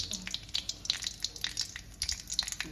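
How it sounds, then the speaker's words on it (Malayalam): Mustard seeds pop and crackle in hot oil in a pan while a Malayalam home cook prepares ladies' finger (okra) mappas, giving soft irregular clicks over a faint sizzle. "അതിനകത്ത് കുറച്ച് നമുക്ക് കടുകിട്ട് പൊട്ടിക്കാം"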